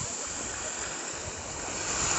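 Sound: waves of the Mediterranean Sea

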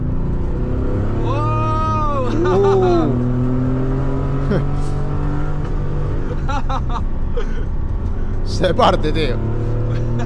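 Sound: Porsche 964 driving and revving on wet asphalt

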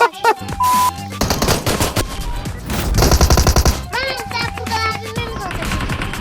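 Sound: gunfire in the video game PUBG Mobile

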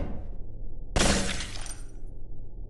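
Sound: glass bridge shattering in the video game Melon Playground

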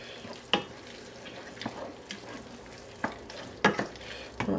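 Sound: stirring concentrated tomato paste in a pan

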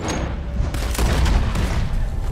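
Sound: gunshot in Red Dead Redemption 2 video game

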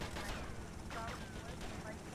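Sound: gunfire in video game GTA Vice City

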